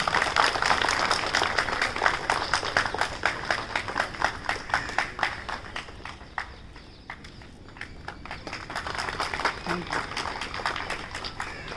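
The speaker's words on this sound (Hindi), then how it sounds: "तालियां बजती रहें।" Audience applause at a Khadi and Village Industries Commission certificate ceremony, steady rhythmic clapping from a crowd that dips in the middle and swells again, with some voices faintly underneath.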